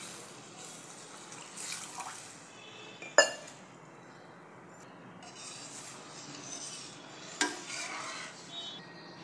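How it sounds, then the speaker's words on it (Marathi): Water is poured into a pot of broken wheat (dalia) for kheer, giving a soft trickling, swishing sound with two sharp metallic clinks from the pot. "मग 2 कप पाणी टाकते"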